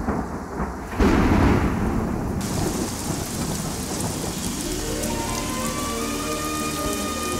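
Heavy rain pours down in a dense, loud, continuous roar while thunder rumbles low beneath it, with a sharp surge of downpour early on and no voices.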